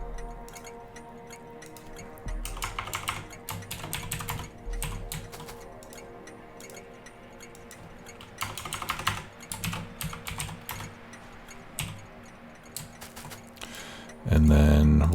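Keyboard typing in bursts of quick clicks over a steady hum, moderately close, during a session of the railway-building game Factorio, with a louder thump at the very end.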